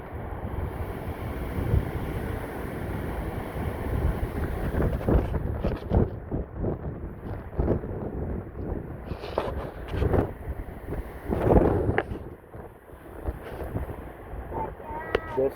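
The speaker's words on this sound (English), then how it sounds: "it's really windy today." Strong wind buffets a microphone outdoors in Las Vegas, a steady roaring rush with gusty swells and occasional thumps, while a person talks over it.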